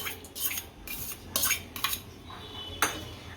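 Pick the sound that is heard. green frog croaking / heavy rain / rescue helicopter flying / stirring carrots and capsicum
stirring carrots and capsicum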